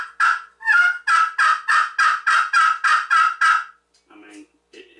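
A glass-on-glass PeckerHead turkey friction call plays about ten loud, close, evenly spaced yelps in quick rhythm, then a few softer, lower clucks trail off near the end, with no talking.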